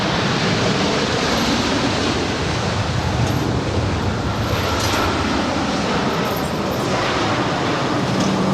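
Delta Airlines jet at Los Angeles LAX, arriving from JFK, giving a steady broadband roar that fills the clip at constant loudness, close and continuous with no clear rise or fade.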